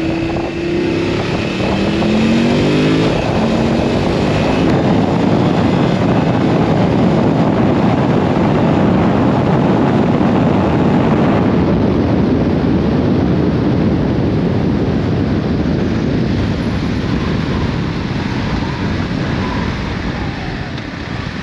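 A 2022 BMW F 850 GS Adventure motorcycle pulls uphill under acceleration on an open road, engine note rising early and then buried in steady loud wind rush for the rest of the ride.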